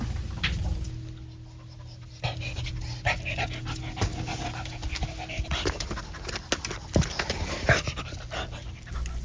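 A dog pants steadily at close range, quick rhythmic breaths running throughout with a few louder huffs and small mouth noises, at a film festival in Cannes.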